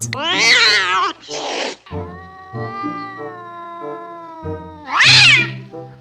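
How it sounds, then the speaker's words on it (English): A cat meows loudly twice, drawn-out and wavering, with a quieter steady tone humming between the calls. "They had an enemy, Pat the cat."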